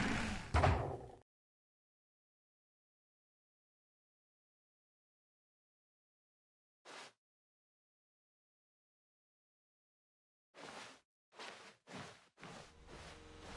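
A door opens in The Stanley Parable as short, quiet thumps and slides set apart by long stretches of silence, with a cluster of door sounds near the end.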